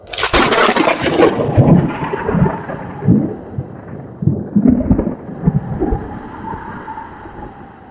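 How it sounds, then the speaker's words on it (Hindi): A thunder crack sound effect in a Hindi horror comic story bursts loudly at the start. Heavy rumbling rolls and fades after it, with no voices over it. "ठीक उसी पल बाहर भीषण रूप से बिजली कड़क उठी।"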